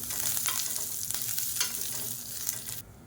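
A handful of curry leaves frying in a pan, a bright steady crackling sizzle heard close up and alone, easing off abruptly at the very end.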